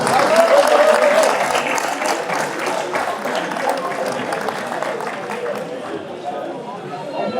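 Sustained crowd clapping at an enduro mountain-bike race podium ceremony, dense and even throughout, fading slightly toward the end, with an announcer's voice running over the applause.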